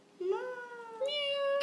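A 15-month-old toddler imitates a cat's meow, two drawn-out, rising-then-steady vocal meows in close succession, up close, with no other talk.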